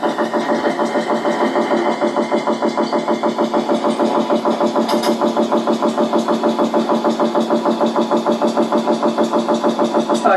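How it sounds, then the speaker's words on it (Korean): A machine runs steadily underground in a suspected tunnel, a loud, continuous mechanical drone with a rapid regular pulsing throughout, heard alone without talk. "이게 보세요. 요걸처럼 기계 돌아가는 소리입니다."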